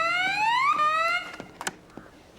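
A security alarm wails loudly with rising electronic siren tones after a wrong code is entered, cutting off abruptly and followed by a few faint clicks and knocks.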